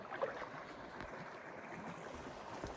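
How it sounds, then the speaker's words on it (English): A small waterfall in cold water out in nature rushes in a steady, even wash of water noise with no break. "There's a waterfall down there."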